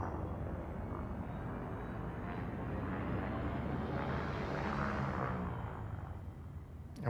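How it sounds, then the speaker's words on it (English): Spaceship engine in Elite Dangerous throttling up, a steady broadband roar that swells gradually and holds loud and close throughout, with no voices. "So we're throttling up."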